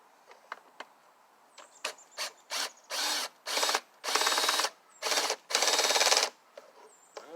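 Cordless driver working a screw on the recoil of a Stihl BR550 backpack blower, a few quick clicks then repeated whirring bursts of the motor in close succession, each about half a second long, loud and near.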